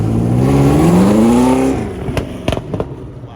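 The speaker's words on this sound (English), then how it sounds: "Oh, here comes the GT." A Ford GT350 muscle car roars past up close, its engine note rising loud and sweeping in pitch for nearly two seconds before fading, followed by a few sharp crackling pops from the exhaust.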